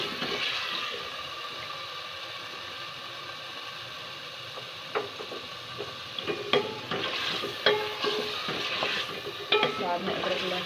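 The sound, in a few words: chicken being stir-fried in a pan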